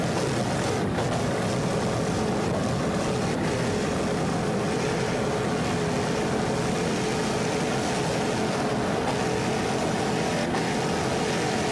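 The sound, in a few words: 38-foot Fountain powerboat with twin 500 hp Vortec inboards racing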